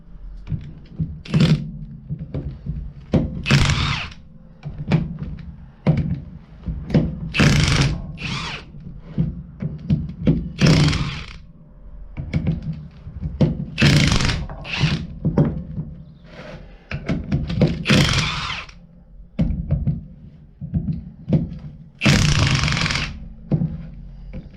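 A 14mm socket on a power tool works the bolts of a Land Rover differential during a strip-down, in loud, close bursts of whirring and rattling separated by short pauses.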